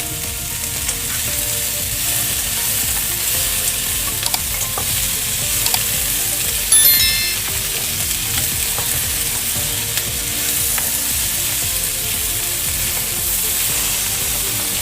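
Papaya and carrot pieces frying in a pan for egg fried rice, a continuous bright sizzle with occasional scraping stirs, steady and close throughout.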